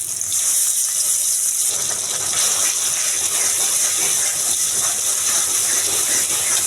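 Blended paste of chili, onion, ginger, garlic and cumin hits hot oil in a pan, setting off a loud, steady hiss of sizzling that swells after a quieter start and holds to the end.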